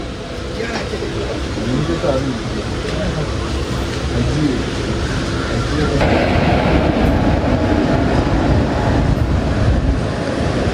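The Kozhikode Jan Shatabdi express pulls away and runs, a loud, close, steady rumble from inside the carriage that swells partway through, with faint rhythmic wheel clatter and voices underneath.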